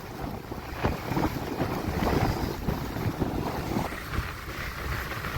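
Steady roar of storm wind buffeting the microphone, with seawater surging and splashing in repeated bursts throughout, on the coast at Jaffna, Sri Lanka.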